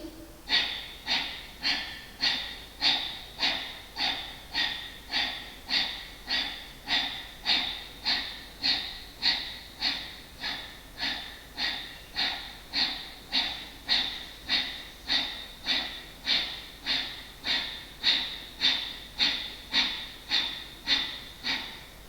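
Rapid, rhythmic breath-of-fire pranayama breathing, forceful nasal exhalations at roughly two per second, steady and evenly spaced for over twenty seconds, close and fairly loud with no talking.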